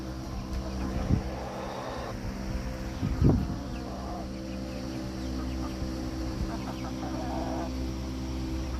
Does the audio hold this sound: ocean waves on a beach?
no